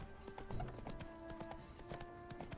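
Hooves of Geralt's horse Roach in The Witcher 3 clop in a steady, quick rhythm over game ambience, each footfall a crisp, moderately close hit.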